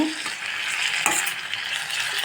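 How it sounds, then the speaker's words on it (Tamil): Onions and chutney ingredients sauté in a hot pan with a continuous, close, hissing sizzle and a brief stir or two; no voices. "ஓரளவுக்கு நல்லா வதங்கியாச்சு"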